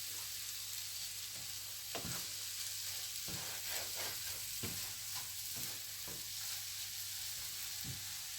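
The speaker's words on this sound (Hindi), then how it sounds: "अब हम इसमें डालेंगे बादाम और इनको अच्छी तरह मिक्स कर लेंगे।" Almonds are stirred into melted khoya in a hot pan, a soft steady sizzle broken by irregular scraping and stirring knocks from a spoon, quiet and close.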